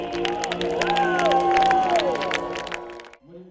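A church congregation at Centro Milagroso in Paraguay applauds and cheers for a choir, dense clapping mixed with raised voices that swell and then cut off abruptly near the end.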